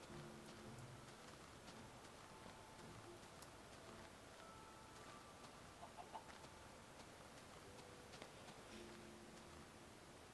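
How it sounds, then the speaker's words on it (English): Video game chickens clucking in short, scattered bursts over several seconds, fairly faint against a soft, steady hiss of ambience, with no one speaking. "Chickens."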